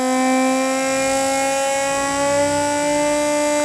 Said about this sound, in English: the speed of the motor is also increasing.